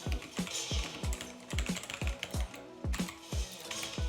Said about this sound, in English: the sound of the keyboard is also really,